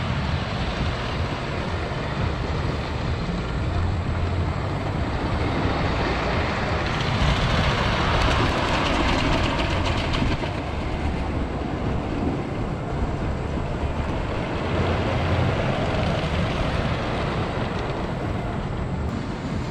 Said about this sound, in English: This is a wood coaster I thought I'd never get to ride.